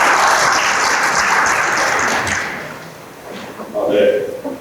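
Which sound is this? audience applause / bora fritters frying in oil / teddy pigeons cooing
audience applause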